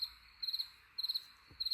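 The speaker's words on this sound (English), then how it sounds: "We're just gonna like insert the crickets noise." Inserted cricket chirping effect: three short bursts of rapid, high trilling chirps spaced about half a second apart, faint and alone over a quiet background.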